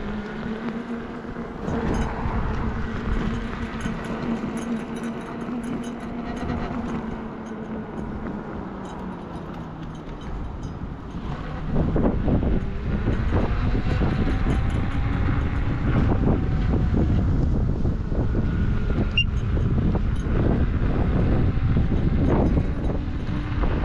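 Riding along on a Nosfet Apex electric unicycle outdoors, a continuous roar of wind buffeting the microphone with a faint motor hum, growing louder and rougher about halfway through as speed picks up, no talking.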